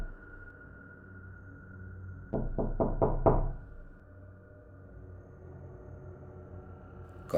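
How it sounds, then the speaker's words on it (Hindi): Four quick, evenly spaced knocks land on a door, close and distinct, followed by a faint steady hum in an otherwise quiet room. "तभी दरवाजे पर किसी ने खटखट की।"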